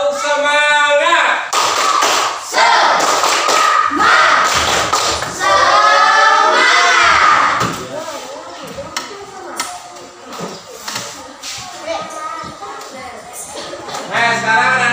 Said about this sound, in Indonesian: Coba sekarang dulu tepuk semangat, supaya semangat mengikuti pembelajaran.